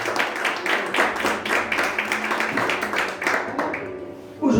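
A congregation applauds during a church service, with dense, sustained clapping that holds steady for several seconds before a brief lull and a fresh burst at the end.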